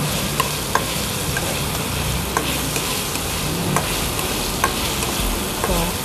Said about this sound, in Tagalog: nakita niyo, hindi ako tumitigil sa pagkahalo